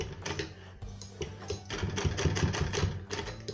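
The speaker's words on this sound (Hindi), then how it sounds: "यहाँ पे ऐसे इस तरह से हम उसको सिलाई लगाएंगे" Sewing machine stitching a sleeve with piping, a close, busy mechanical rattle of needle strokes that runs almost without a break and swells slightly in speed and loudness toward the end.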